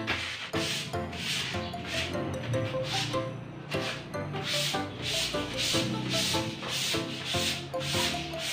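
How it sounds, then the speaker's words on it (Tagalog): Hand sanding of a primed plywood door with coarse 40 grit sandpaper, a steady series of loud, close, rhythmic rasping strokes that run continuously without talk. "lihaan natin kunti ng ano, 40 grit na sandpaper para matanggal yung gaspang niya"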